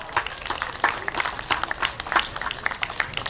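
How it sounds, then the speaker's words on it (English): Scattered applause from an audience at a chemistry magic show, uneven claps rising and dipping in loose bursts, fairly close and without talk. "Let's give these guys a round of applause."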